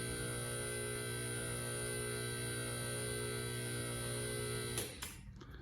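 Quickjack portable car lifts raising in a home garage, a steady electric pump hum with a mains-like drone running continuously at moderate level, then cutting off abruptly near the end, leaving quieter room noise.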